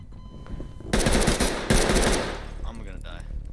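Loud bursts of automatic gunfire in the tactical shooter video game Ready or Not, heard as rapid rattling volleys in two clusters over a steady background of game ambience.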